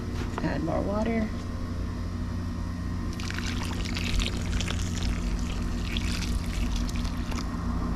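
More water poured into coco coir bedding for a worm bin. A voice speaks briefly at the start, then a close, steady pouring and splashing fills the rest of the clip.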